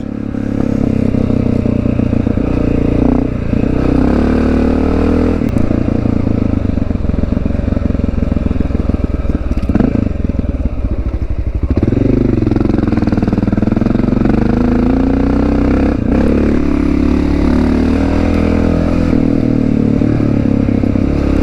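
A Honda XR650L dual sport motorcycle ridden off-road in a valley, its single-cylinder engine droning loud and steady throughout with shifting revs, rattles and clatter, and the rear wheel dragging and scraping over dirt.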